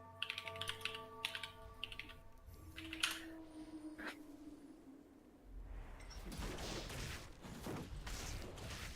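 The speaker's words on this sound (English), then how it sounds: "He's typing." Typing on a computer keyboard during a podcast, a quick, uneven patter of key clicks heard faintly and fairly close, with pauses between bursts and no talk over it.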